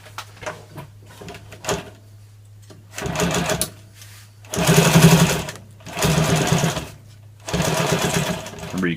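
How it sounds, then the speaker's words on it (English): A sewing machine stitches in several bursts over a plastic zipper chain on a first aid pouch, loud rapid whirring runs with brief pauses and clicks between, and a voice speaks in the quiet gaps. "you can sew right over the zipper chain when it's plastic"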